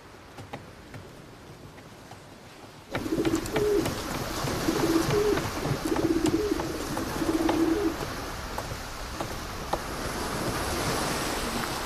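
A pigeon coos in a series of soft, repeated low calls over a wash of wind and surf, after a quieter opening.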